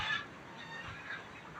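Peruvidai chickens at SRS poultry farm in Paramathi Velur cluck and call softly and continuously, faint and somewhat distant.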